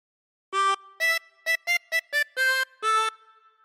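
A 24-hole tremolo harmonica plays the Christmas tune We Wish You a Merry Christmas as eight short, bright, wavering notes in a clear rhythmic phrase, close and loud, with no talking.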